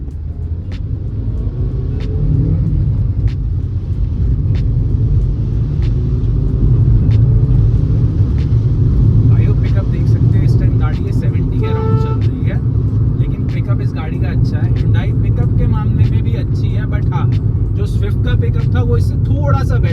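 Hyundai Grand i10 Nios 2024 hatchback accelerating in a pickup test, a steady loud engine and road rumble building throughout with faint higher tonal whine near the end, no talk over it.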